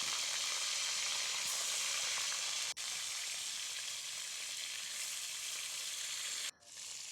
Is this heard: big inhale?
no